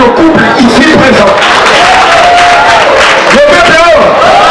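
A lively crowd applauds and cheers for a couple at a gathering, with loud clapping mixed with shouts, whoops and voices talking over it.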